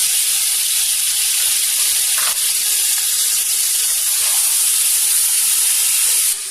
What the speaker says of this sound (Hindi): अब मैं इसके अंदर ऐड करूंगी अपने टमाटर